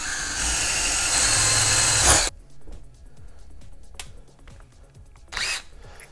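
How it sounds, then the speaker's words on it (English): Power drill boring a hole through two stacked aluminum pieces, a loud steady whine for about two seconds that cuts off abruptly, followed by quieter shop noise and a brief later burst. "And I'm going to drill a hole through both"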